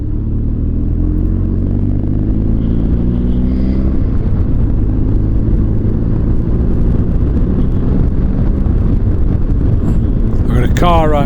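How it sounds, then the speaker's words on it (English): Car engine closing in right behind a motorcycle on a classic Welsh road, steady loud engine drone and road rumble with wind buffeting throughout, a slight shift in pitch midway and a brighter swell near the end. "Car right behind me, so I'm going to let him past."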